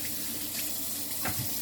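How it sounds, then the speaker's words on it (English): Tap water runs steadily into a cast iron pan in a kitchen sink, a continuous close hiss and splash with a faint clunk near the end. "just run water in them."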